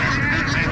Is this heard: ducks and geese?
yes